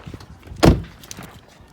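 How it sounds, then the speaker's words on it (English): A 2008 Volkswagen Jetta car door shuts with a single loud, close thunk partway through, then settles into quiet background noise. "close the door"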